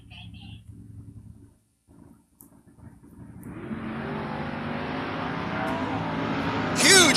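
Door car drag racers launch and run down the strip. A loud engine roar builds and then holds steady to the end, following a stretch of announcer talk at the start.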